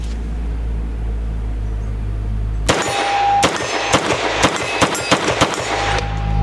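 A Nomad Defense G26X pistol fires a quick string of sharp, loud shots at close range. There are about eight cracks, some with short pauses between them, after a low steady hum.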